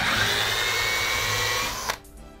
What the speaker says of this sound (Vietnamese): mình sẽ xài một con để khoan gỗ thử cho anh em coi trước ha